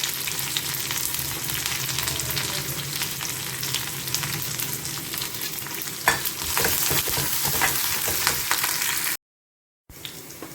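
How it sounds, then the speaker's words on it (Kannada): Garlic and curry leaves fry in hot oil in a pan, a steady close sizzle with light stirring scrapes throughout, cutting out briefly near the end before returning. "ಈಗ ಬೆಳ್ಳುಳ್ಳಿ ಹಾಕ್ಕೊತೀನಿ ಮತ್ತು ಇದು ಕರಿಬೇವು."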